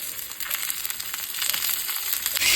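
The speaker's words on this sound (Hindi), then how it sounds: "इसको फ्राई होने के लिए यहाँ पे डाल देंगे" Wheat-flour bhakri flatbread made with semolina fries in oil in a pan, producing a dense, crackly sizzle with rapid pops that grows slightly louder toward the end.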